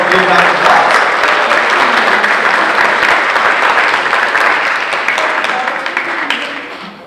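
An audience at a construction signing day event bursts into sustained, loud applause for Roswell Drywall, dense clapping that holds steady for several seconds before beginning to taper off.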